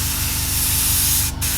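An airbrush sprays paint onto a 1/48 scale Airfix Hurricane model aircraft, giving a loud, steady broadband hiss with a brief drop near the end.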